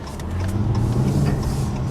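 A 2014 Jeep Cherokee with a smaller-than-V6 engine accelerates as it pulls out into traffic, its steady mid-range engine drone rising and holding loud and close for the whole stretch with no talking.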